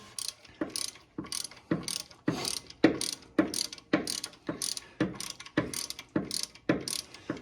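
A ratchet turns a bolt on a Mercedes 450SEL chain tensioner with about a dozen evenly spaced bursts of sharp, close clicking and no voices.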